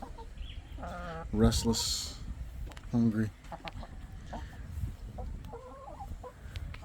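Free-roaming chickens in the Philippines cluck and squawk in the afternoon, with a few loud close calls standing out over steady outdoor background noise while a person talks.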